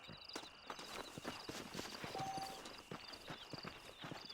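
Horses' hooves clip-clop steadily in the Western video game Red Dead Redemption, a busy run of close hoof knocks layered over a constant background hum and ambience.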